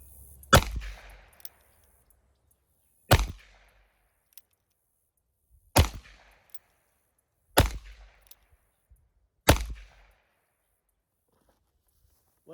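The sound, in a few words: gunshots from Ruger Old Model Vaquero revolver, 45 Colt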